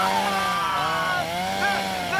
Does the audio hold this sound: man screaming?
no